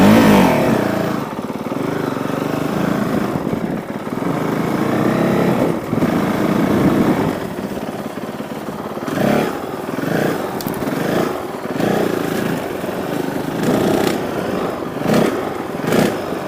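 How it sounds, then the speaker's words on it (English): A Honda CRF450L dual-sport motorcycle runs loud and close on a trail ride, its engine rising and falling in uneven surges, with a loose, clattering chain rattle riding over the drone. "It's with chain rattle."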